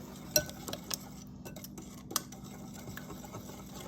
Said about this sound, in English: we're going to blend all this together.